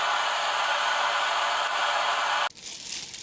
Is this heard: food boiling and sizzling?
no